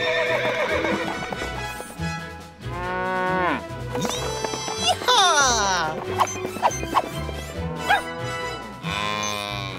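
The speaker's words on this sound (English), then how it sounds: "Riding horses is a big part of the job." A horse in a Roblox video game clip-clops at a run and whinnies loudly, with cattle lowing among the game sounds and background music; no talk.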